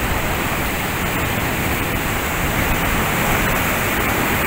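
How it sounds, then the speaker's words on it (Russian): Strong ocean waves in Tenerife surge over and spill out of a seaside pool, making a loud, unbroken roar of rushing, splashing water that fills the whole stretch. "Вода выливается за пределы бассейна."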